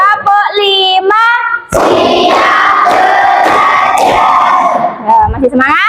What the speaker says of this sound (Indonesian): Ibu coba tepuk semangat ya.